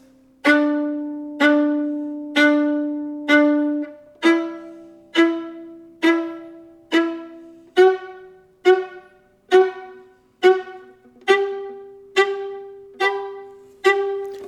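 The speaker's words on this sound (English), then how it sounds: "Do 1 octave scale, 4 bows on each note, out and in, just dropping the bow on the string and trying to get a nice, clear sound" Viola played spiccato with in-and-out bowing, climbing a one-octave scale: crisp, clear bounced notes in steady groups of four per pitch, each struck and quickly ringing away, played solo and close.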